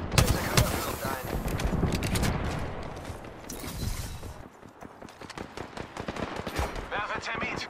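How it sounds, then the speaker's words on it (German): Gunfire in the video game Apex Legends: rapid bursts of automatic shots crackle densely through a busy battle mix, with continuous firing and impacts and no clear break. "Kann es sein, dass die auf uns schießen?"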